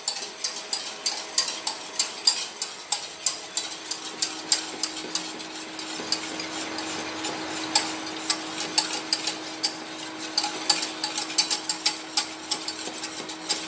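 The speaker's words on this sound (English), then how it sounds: "You have to put this on a slow flame and just mix it up." Agar agar mixture being stirred by hand in a pot over a slow flame, a steady run of light scraping ticks and clinks with a soft low hum beneath, fairly close and continuous.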